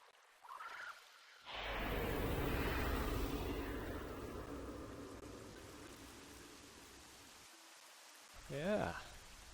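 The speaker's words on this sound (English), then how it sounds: "Now it's properly, well, raining, to say the least." Steady, dense rain pours down across the scene in the game Myst V: End of Ages, a broad continuous hiss that swells in after a brief quiet moment and holds loud, with a short voice near the end.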